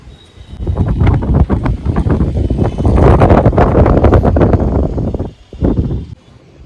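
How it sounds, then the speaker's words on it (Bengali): Strong wind blows across the microphone outdoors on a breezy, rainy afternoon, a loud continuous buffeting roar that swells and drops briefly near the end. "যা সুন্দর হাওয়া, দারুণ হাওয়া দিচ্ছে ভাই,"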